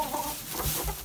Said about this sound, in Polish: Tutaj sobie kura siedzi